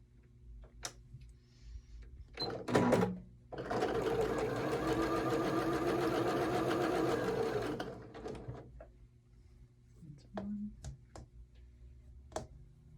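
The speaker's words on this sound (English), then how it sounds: "We're going to go ahead and sew these together." A sewing machine stitching quilt pieces together runs in one steady burst of about four seconds, framed by clicks, handling sounds and a brief voice before it starts.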